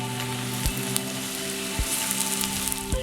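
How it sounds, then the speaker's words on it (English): Meat sizzles steadily in hot olive oil in a steel tagine, a close, even crackle with a few louder pops and thumps as pieces settle in the pan. "start cooking your meat in batches of 2 or 3 so that you don't overcrowd the pan"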